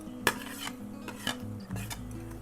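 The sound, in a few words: stirring potatoes and spices together in a pan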